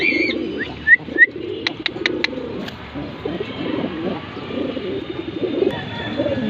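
Racing pigeons coo in a steady, low murmur close by, with a few brief chirps and sharp clicks over the first couple of seconds.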